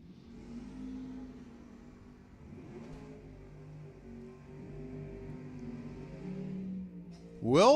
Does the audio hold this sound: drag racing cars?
yes